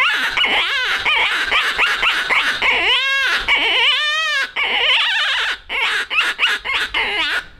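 An Ole Croaky predator call is blown to mimic a badly hurt rabbit in distress, giving loud, close, wavering squeals and cries in varied bursts, some long and drawn out, others short and sharp.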